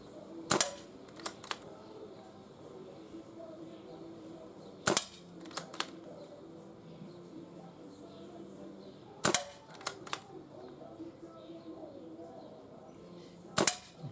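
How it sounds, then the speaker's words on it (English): Webley Nemesis air pistol firing outdoors: four sharp, close shots spaced about four seconds apart, each followed by brief mechanical clicks of the action, against quiet background. "It's got a little bit of a kick on this pistol when you pull the trigger."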